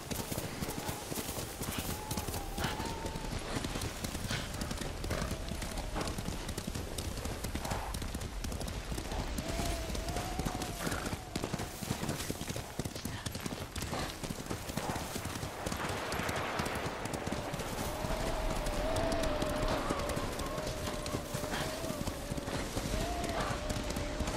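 Horse hooves clip-clop steadily in the video game Ghost of Tsushima, a continuous trotting rhythm under background music and game sounds, with faint voices at times.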